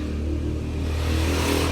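A motorcycle engine, bought secondhand and left sitting in storage for months with many faults, runs steadily and close by with a low throbbing idle that swells slightly toward the end; no voices.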